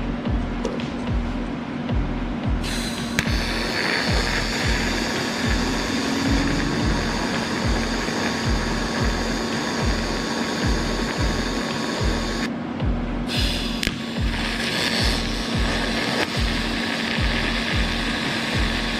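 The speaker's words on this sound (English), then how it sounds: "And then weld the other side." Welding on a car rear differential, a loud continuous crackling buzz with a steady pulsing hum underneath, broken by a couple of short pauses in the arc.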